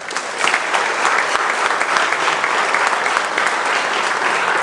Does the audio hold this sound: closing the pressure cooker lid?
no